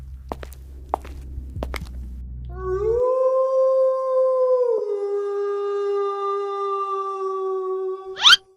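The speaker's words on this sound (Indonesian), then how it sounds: "tiba-tiba ada suara serigala" A long, rising then steady wolf howl with rich harmonics in a horror game set in a haunted factory warehouse, following a few thuds and footsteps, loud and close with no talk.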